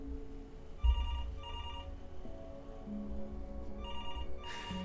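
A telephone rings in the video game Before Your Eyes, repeated bursts of a trilling bell in a steady pattern, fairly soft and slightly distant under a low ambient hum, no talking over it.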